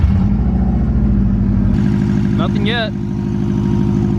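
A Subaru WRX engine, just refilled with coolant after leaks, runs steadily at idle with a low continuous rumble while a person speaks briefly over it.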